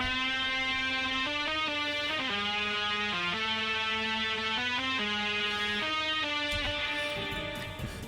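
A sustained lead guitar melody with smooth pitch bends glides between held notes over a steady backing track, clear and prominent throughout.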